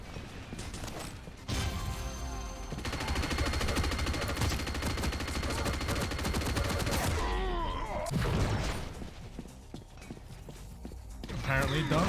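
Flak cannon fire in the arena shooter Quake Champions comes in rapid repeated blasts mixed with other game effects, loud and dense throughout, with players talking over it.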